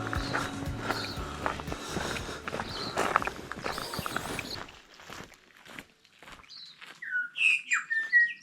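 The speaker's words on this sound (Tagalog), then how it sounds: "Hindi ko alam kung naririnig nyo yung mga huni ng ibon." Birds chirp in short bright bursts near the end, after a stretch of steady footsteps and rustling movement through Pukeiti Botanical Garden in Taranaki, New Zealand.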